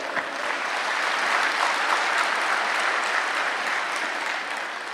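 Steady, dense applause from a large audience at a Brahma Kumaris spiritual talk in Madhuban, sustained at even loudness throughout with no voices over it.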